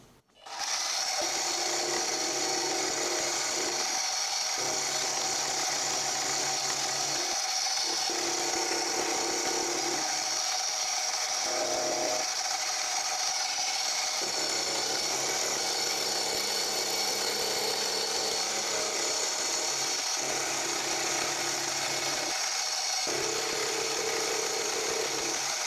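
A steady machine whine and grinding hiss of metal being cut in a final pass with the Z-axis locked, running continuously, with brief rhythmic dips in the low hum as the cut progresses.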